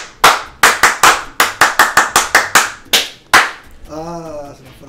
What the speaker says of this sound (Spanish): un aplauso para Néstor Luaces